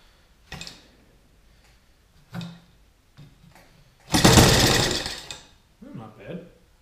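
A Saito FG-30B four-stroke gasoline model engine, run at half throttle during break-in in cold weather, roars loudly for about a second after a few short bursts and pops.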